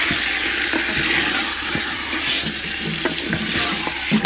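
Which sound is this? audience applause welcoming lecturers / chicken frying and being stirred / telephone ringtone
chicken frying and being stirred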